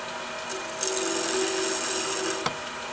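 Skew chisel cutting a wooden bowl spinning on a lathe gives a steady broadband scraping hiss with a faint hum, plus a brief sharper catch near the end, close and alone.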